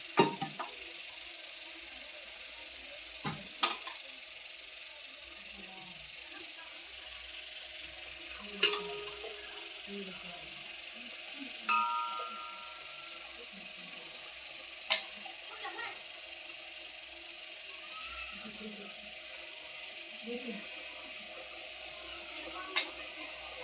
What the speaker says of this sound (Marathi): तुम्ही पाहू शकता मी आता फोडणी द्यायला लागली बरं का.